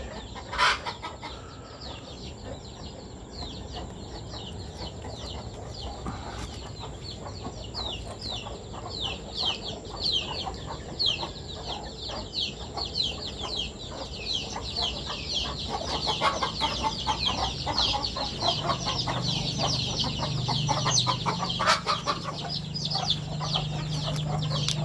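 Native chickens and Cornish bantams on a farm, clucking steadily throughout in a busy flock chatter, with occasional louder calls and no talking.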